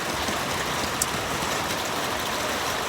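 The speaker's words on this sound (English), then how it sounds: "it's raining cats and dogs out here" Heavy rain pours outdoors on a paintball field, a dense, steady hiss of drops with no talking.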